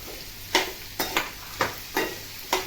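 Okra going into a hot pan with a quarter spoon of turmeric, stirred in a few distinct scraping, sizzling bursts about half a second apart over a low steady frying hiss.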